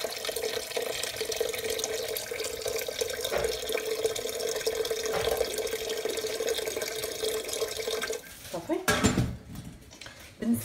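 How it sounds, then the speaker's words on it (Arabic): Water runs steadily from a tap into a pot with chicken for couscous, a continuous close splashing pour that stops near the end and is followed by clatters from the pot, with a voice present in the background. "غادي نروي بالماء"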